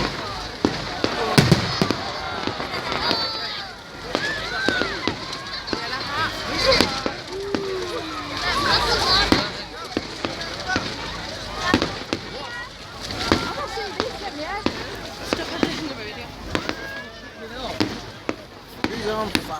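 Bonfire night fireworks burst repeatedly at an irregular rhythm, with sharp cracks and crackling scattered across the scene, while people talk and call out nearby throughout.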